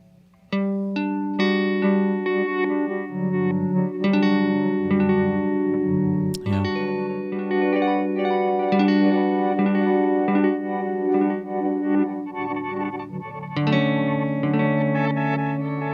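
A granular effects pedal with its regeneration turned up, smearing a steady, sustained tonal signal into a dense, shimmering wash of layered repeats. Played alone, loud and continuous throughout.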